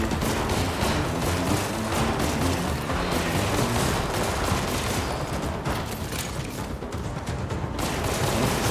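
Sustained gunfire from Left 4 Dead played in VR, dense overlapping shots forming a loud, continuous fusillade across the whole stretch with no talking.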